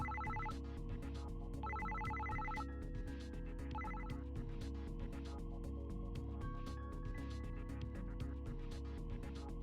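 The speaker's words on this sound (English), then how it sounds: "Suddenly, it seemed like Shinori's cell phone started ringing." A cell phone rings in the Psycho-Pass: Mandatory Happiness game, its repeated electronic ring bursts coming in short trills over a steady background of game music.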